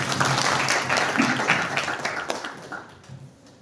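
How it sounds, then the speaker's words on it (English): Audience clapping at an outdoor Environment Day event in Kakamega, a burst of many hands that starts full and thins out, fading toward the end. "I think that clap is not enough."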